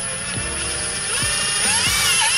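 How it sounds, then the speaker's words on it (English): Short whirring bursts from a power driver sink self-tapping screws while Turner pedals go into a BMW E46 M3, each burst brief and close amid steady mechanical noise. "You don't need a drill bit for this because these are self-tapping screws."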